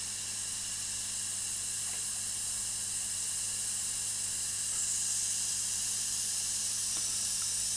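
Gaahleri Aventus airbrush with a number 2 needle spraying paint: a continuous, even close hiss of air and paint that holds steady throughout, with no talk.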